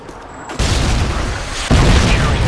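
Predator missile strikes in Modern Warfare 2 multiplayer, two loud booming explosions in quick succession, each landing as a sudden heavy jump in rumbling noise that keeps roaring afterward.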